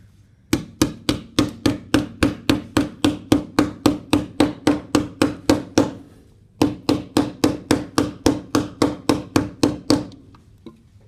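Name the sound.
hammering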